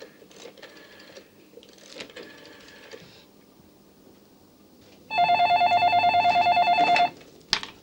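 A telephone is dialed in an Egyptian film scene: a few short clicks and bursts come first, then a loud, steady electronic tone holds for about two seconds before a final sharp click.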